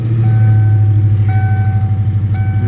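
A 1998 Ford Mustang GT V8 running just after starting, a loud steady engine rumble with a rhythmic pulsing idle and a faint high whine, heard alone.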